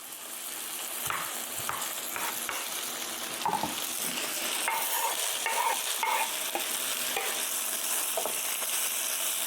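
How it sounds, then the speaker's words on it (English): Chicken pieces sizzling in a pan while being stirred and flipped, a constant frying hiss broken by repeated scrapes and clacks of the utensil against the pan. "So I'm just flipping these chickens over, like I said, to make sure that they're cooking evenly throughout."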